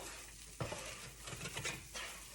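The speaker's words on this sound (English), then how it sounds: "I just toss back in the breakfast sausage, and I just give it a stir." Breakfast sausage frying in a pan is stirred with a utensil, a soft steady sizzle with a sharp scrape near the start and a few more scraping strokes through the short stretch.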